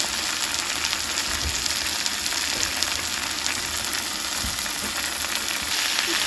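Chicken curry masala sautéing in a pan: a steady, dense frying sizzle runs throughout, close and even, with occasional faint knocks from stirring and no speech.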